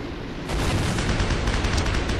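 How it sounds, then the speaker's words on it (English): Explosion in the World War II shooter Heroes and Generals during a Sherman tank battle, a sudden loud blast that opens into a sustained rumbling roar with crackling gunfire-like texture, close and dense, with no talking. "whatever that explosion was"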